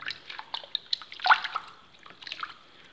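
Water drips and splashes while freshly harvested luffa sponges are washed, scattered close drips and light trickles at irregular intervals with a brief louder splash in the middle.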